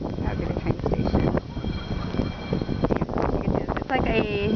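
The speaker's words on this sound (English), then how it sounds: "this is crazy winds" Strong blizzard winds in Chicago drive snow past a train station, a continuous close roar buffeting the microphone, with a person talking over the gusts.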